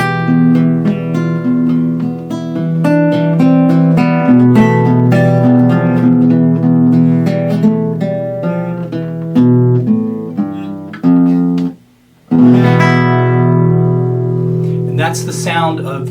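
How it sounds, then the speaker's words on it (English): Guitar playing chords in E Phrygian, ringing notes and strummed chords in a steady flowing pattern, with a short pause near the end before a final chord rings out. "And that's the sound of E Phrygian."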